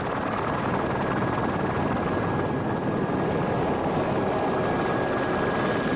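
Helicopter filming a 1986 powerboat race in the Florida Keys from the air, a loud, steady, close rotor and engine roar that stays dense and unbroken throughout, with no voices heard.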